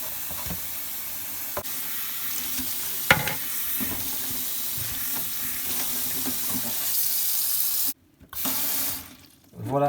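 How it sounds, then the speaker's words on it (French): A Lexan RC car body scrubbed inside and out with a sponge under hot running water at a sink, a steady close hiss of water with scrubbing squeaks, then the tap cuts off briefly and resumes. "Là je dégraisse intérieur, extérieur à l'éponge,"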